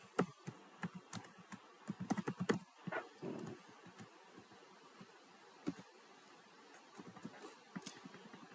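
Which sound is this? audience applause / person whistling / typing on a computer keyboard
typing on a computer keyboard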